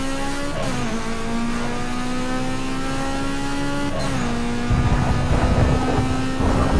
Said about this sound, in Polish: To jest Mitsubishi Lancer.